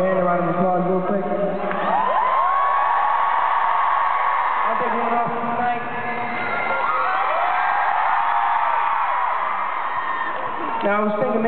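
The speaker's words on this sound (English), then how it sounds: "Can we give my band a round of applause real quick?" Concert crowd at a show in Krakow, Poland, cheering, whooping and applauding for the band, a loud sustained roar with shrill screams throughout, swelling again near the end.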